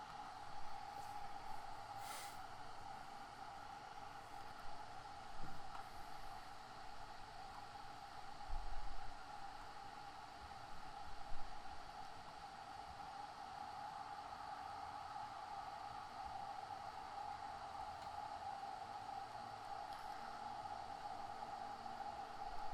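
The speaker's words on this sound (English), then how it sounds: "you can pretty much hear the sounds of the engines running" A steady low mechanical drone of ship engines runs continuously, with a faint broadband hiss and occasional soft knocks.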